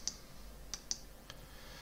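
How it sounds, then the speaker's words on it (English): A few sharp, quiet computer mouse clicks sound close, spaced irregularly across a near-silent moment in a software tutorial. "Click next."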